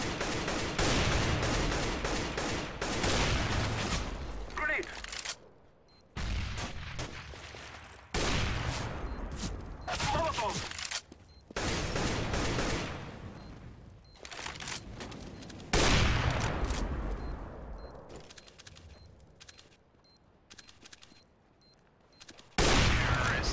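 Gunfire in the video game CS:GO during a ranked matchmaking match, dense loud bursts of automatic fire and single shots that come in rapid volleys and are broken by brief silent gaps.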